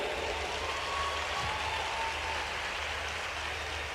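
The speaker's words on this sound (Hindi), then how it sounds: "मुझे मेरे भारतवर्ष के लिए आखिरी पंक्ति तक तालियां चाहिए।" Steady, dense clapping from a large outdoor rally crowd, a continuous wash of applause that holds at an even level throughout with no speech over it.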